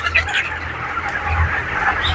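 A large flock of 27-day-old broiler chickens in an environment-controlled poultry shed makes a steady, dense murmur of clucking and chirping, heard as continuous ambience with no talk.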